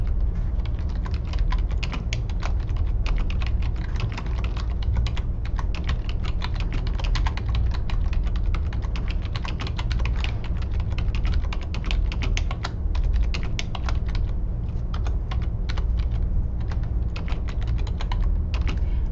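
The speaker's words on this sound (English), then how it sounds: "So now then we are going to type, and I'm going to just type the first sentence here" Rapid, continuous clicking of keys on a computer keyboard, close and steady throughout with no talking.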